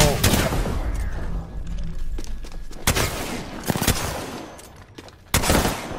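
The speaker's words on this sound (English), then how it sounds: "What are these shots, bro?" Gunfire in a multiplayer shooter game: dense bursts of shots cracking through the clip, with several sharp loud reports standing out, including one near the end, against constant battle noise.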